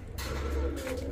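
Pigeons cooing together in a loft or market coop where pigeons, doves and king quail are kept, a soft continuous low murmur of calls that stays close and steady with no talk.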